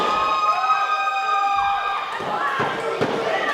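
A wrestling crowd at a pro wrestling show shouts and cheers loudly, with a bright ringing tone running through the noise and a few thuds near the end, while a commentator's voice talks over it.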